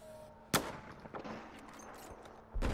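Sharp gunfire cracks in Battlefield 4: one loud shot near the start and another near the end over a low, busy game background.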